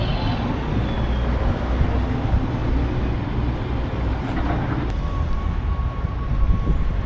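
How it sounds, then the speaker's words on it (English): Inside a Chicago L train, a continuous low rumble of wheels on the rails and car noise, with a faint high squeal partway through, steady and enveloping. "Riding on the L train"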